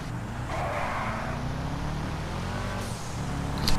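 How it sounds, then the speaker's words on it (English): Cars in a GTA Online street race, an engine droning steadily close by with tyre noise and a brief rising rev near the end, no talking. "Got a little street race going"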